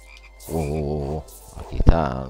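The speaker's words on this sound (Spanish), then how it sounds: "Ah, da una rana colorada." Croaking frog in the video game Touhou Scarlet Curiosity: a long, pulsing croak, then a short louder croak with a sharp burst, close and clear with no talk over it.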